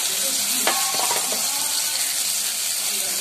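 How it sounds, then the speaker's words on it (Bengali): Ginger and potatoes frying in hot oil in a pan, a steady crackling sizzle with a brief clink of stirring early on. "এবার আদাটা ভালো করে আমি কষিয়ে নিচ্ছি তেলের সঙ্গে আর আলুর সঙ্গে"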